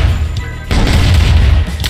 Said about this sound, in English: Ion cannon charging.